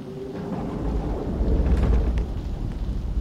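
A long roll of thunder over falling rain in FNAF Help Wanted, building to a loud peak midway, then rumbling on steadily with no voices.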